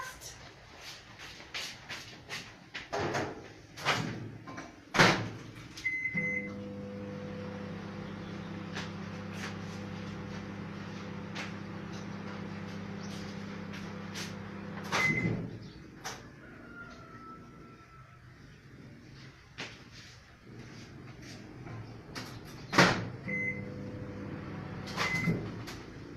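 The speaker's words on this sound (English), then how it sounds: "I'm gonna microwave this real fast." A microwave oven runs with a steady low hum between the door clunking shut and opening, preceded and followed by kitchen clatter of cupboards and handling; close, with no talking.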